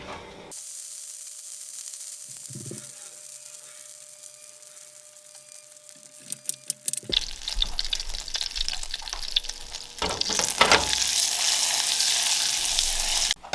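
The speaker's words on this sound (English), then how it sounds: "We're gonna heat this over medium-high heat. It won't take very long, and you can definitely see, you know, it start to brown" Butter melting and browning in a pan over medium-high heat: quiet at first, then a bursting, crackling sizzle that grows louder and denser, heard close with no talking.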